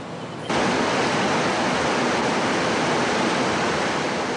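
Rushing river water with a broad, steady roar that starts abruptly and continues unbroken at close range.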